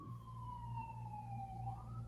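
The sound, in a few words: emergency vehicle sirens on a busy street outside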